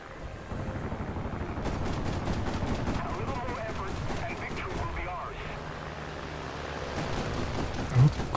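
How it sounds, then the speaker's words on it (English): Anti-aircraft naval guns firing in a video game: a steady, fast rattle of repeated shots that goes on for several seconds at moderate loudness, under a rumbling wash of battle noise, with a thump near the end. "I'm not quite used to shooting these guns at aircraft though."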